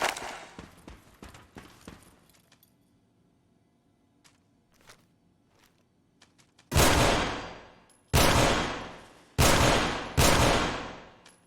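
A weapon is test-fired in Fallout 4, first as a scatter of faint clicks and small handling noises, then four loud, separate gunshots, each with a long decaying echo, spaced about a second apart.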